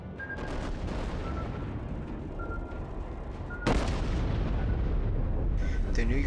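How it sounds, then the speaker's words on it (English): The US battleship New York fires a main gun salvo in World of Warships: heavy artillery booms over a rumbling background, with a sharp, loud blast partway through and continued roaring aftermath. "The New York takes aim and fires a salvo while avoiding the island"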